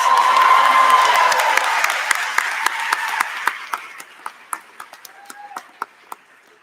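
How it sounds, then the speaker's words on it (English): Graduation ceremony audience gives a broad wash of applause and cheering that fades over a few seconds, leaving scattered individual claps ringing out sharply near the end. "let's give a quick round of applause to Miss Ellico"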